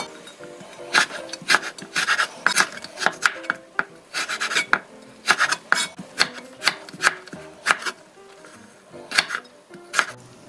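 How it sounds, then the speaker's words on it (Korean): A knife julienning bellflower root (doraji) for salad on a cutting board, a steady series of crisp, close chopping taps in quick uneven rhythm with no voices. "사과채처럼 도라지도 채를 썰어주세요"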